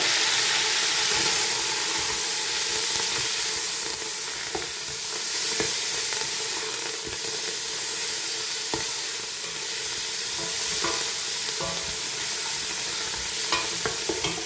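Coriander and mint leaves sautéing for mutton biryani, a continuous close sizzle with repeated scraping and stirring clinks throughout, loud and unbroken, no one talking.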